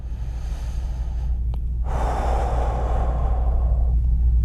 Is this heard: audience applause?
no